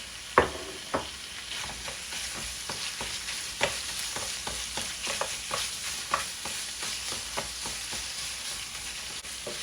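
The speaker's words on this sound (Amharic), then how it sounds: "ደቀቅ ያለ ስጋ እንደዚህ ሲጠበስ ጋዝላይት ይባላል" Finely cut lamb sizzles and fries in a pan for Ethiopian gaslight tibs, with a steady frying hiss broken by repeated sharp clicks and scrapes of stirring, close and moderately loud, with no talk.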